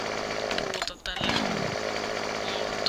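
A chainsaw drones loudly in Farming Simulator 2015 while cutting a felled tree. Its engine pitch drops and dips briefly, then returns to a steady buzzing whine.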